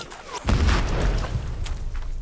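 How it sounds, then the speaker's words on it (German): Booming explosions and gunfire in the World War I video game Ad Infinitum, a heavy low blast followed by a continuous rumble of battle noise. "Schüsse und Explosionen das Einzige ist, was man hört"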